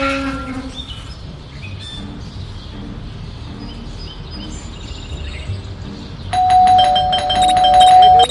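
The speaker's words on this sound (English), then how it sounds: "That stupid bell again." A ringing bell in the Scary Teacher 3D video game chimes in, loud and sustained, near the end, over a quiet game background with a brief tone at the start.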